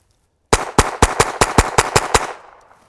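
Suppressed subsonic rimfire rounds fired from a small suppressor: eight sharp, muffled cracks in a quick, even string, close and loud, then a short fading tail with no talking.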